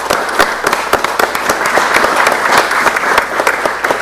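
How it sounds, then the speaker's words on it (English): An audience at a school board meeting applauds students, with loud, busy clapping and sharp individual claps standing out near the listener throughout. "So please give them a round of applause."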